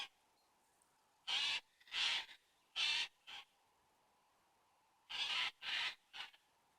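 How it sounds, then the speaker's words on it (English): Birds squabble in the woods with a series of loud, harsh calls, a cluster of four and then a cluster of three, separated by quiet pauses, close by and with no talking. "There's a little bird conflict going on here."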